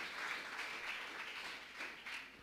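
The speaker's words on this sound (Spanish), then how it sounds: "Dele un aplauso a Yeshua" A church congregation claps for Yeshua, soft, distant applause swelling and easing over a couple of seconds with no voices on top.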